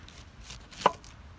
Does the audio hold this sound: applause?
no